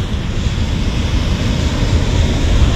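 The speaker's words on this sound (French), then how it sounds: "Les vagues sont quand même assez grosses pour moi qui débute." Ocean surf breaking at a beach in El Salvador around dawn, a dense continuous wash of waves with wind noise, swelling slightly louder toward the end, with no voices.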